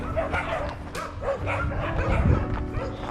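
A sled-dog team barks and yips in overlapping bursts, with excited whimpers mixed in, close and fairly loud against outdoor background noise.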